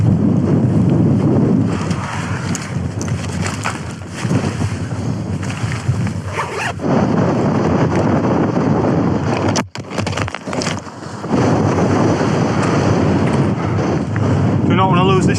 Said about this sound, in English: Then winds are picking up a little bit.